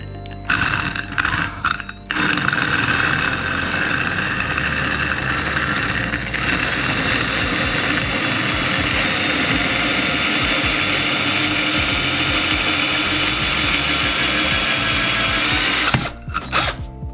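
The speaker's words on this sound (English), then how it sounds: "And now what we'll wanna do is come in and start drilling." A power drill bores a drainage hole in a plant pot, running at a steady loud whine for about fourteen seconds after a few short starts, then stopping.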